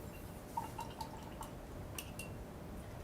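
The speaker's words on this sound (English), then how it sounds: "But now I'm going to go ahead and rinse." A paintbrush used with watercolor gel paints is rinsed in a water cup, giving a few soft, close drips and light watery clinks over quiet room tone.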